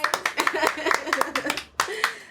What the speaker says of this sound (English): Another clap for Nadia's ass.